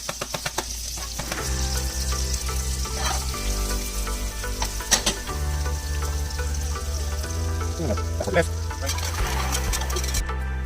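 Onions and garlic sizzle steadily in a pan, a constant frying crackle beneath prominent background music with a few louder stirring bumps.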